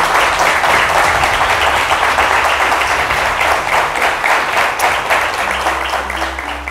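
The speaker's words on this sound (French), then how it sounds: "On peut les applaudir." A studio audience at a televised school quiz competition applauds steadily and loudly, a dense wash of clapping that holds its strength throughout with a faint low hum beneath.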